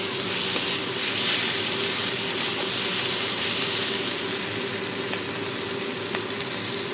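Peanuts and other ingredients for a mashed peanut dish sizzle steadily in a pan as they are stirred and fried, a continuous close hiss with faint scraping and no talking.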